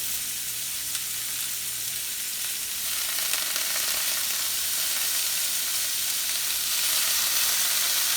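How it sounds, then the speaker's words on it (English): Onions and peppers sizzle steadily in a frying pan after a splash of distilled white vinegar, a continuous close hiss that swells slightly toward the end, with no talking. "to the onions and the peppers, I add about 2 capfuls of regular distilled white vinegar."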